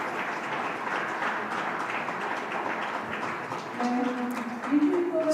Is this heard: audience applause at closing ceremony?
yes